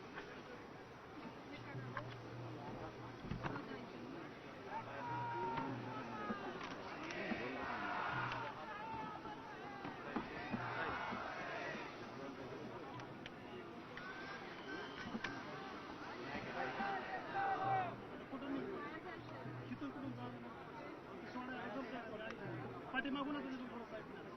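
A large crowd gathered for Ajit Pawar's last rites gives off a steady, dense murmur of many voices, with louder swells and shouts rising and falling throughout.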